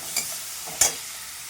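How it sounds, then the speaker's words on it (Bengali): Goat mutton mince fried with garlic paste gives a steady, close sizzle, broken by two brief spatula scrapes against the pan. "তো আবার রসুনটা দেওয়ার পর আমি আবার ভালো করে এটাকে কষিয়ে নেব।"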